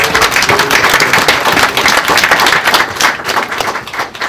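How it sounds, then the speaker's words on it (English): Applause from an audience at a heritage award ceremony, a dense, steady wash of many hands clapping together at close range that carries on without a break and stays loud throughout. "Let's give everybody a round of applause."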